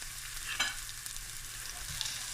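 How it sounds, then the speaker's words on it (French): Garlic and green onion frying in oil with a spoonful of butter, a soft continuous sizzle with a few light stirring scrapes, close and fairly quiet. "Avec mon huile, je vais ajouter tout de suite une bonne cuillerée à soupe de beurre. Là, je vais ajouter l'ail, le l'oignon vert."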